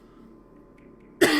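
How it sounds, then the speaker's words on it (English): One short, harsh cough bursts out near the end after a quiet stretch of low room hum, close and loud, heard alone without talk. "Excuse the cough."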